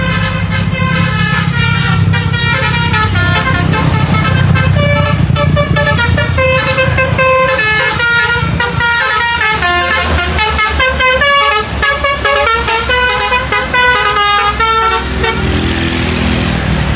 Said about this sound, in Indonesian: Kali ini ada bus PO Haryanto teman-teman